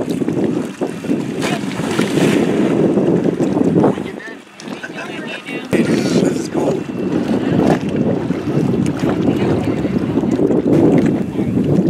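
A Sea-Doo personal watercraft rides over ocean waves, its engine droning loudly under heavy wind buffeting on the microphone and water splashing, with a brief dip midway as it hits a wave.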